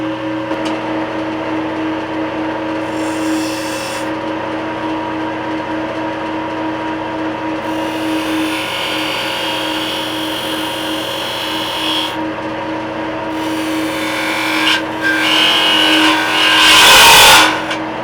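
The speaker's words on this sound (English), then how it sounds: "I'm going to score a line so that I can create the shoulder cut. Then I'm going to come in and I'm going to create the dovetail angle" A wood lathe spins steadily with a constant motor hum while an Easywood Tools Easy Detailer cuts a shoulder and dovetail on a spinning top blank, with intermittent scraping bursts and a louder cutting flurry near the end.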